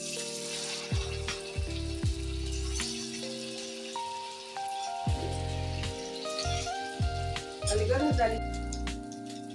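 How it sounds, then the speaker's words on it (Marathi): Poha rolls shallow-frying in a small amount of oil, giving a steady sizzle and crackle with occasional clinks and stirring taps, close and fairly loud throughout. "आता मी याचे पोह्याचे रोल बनवून तळून घेणार"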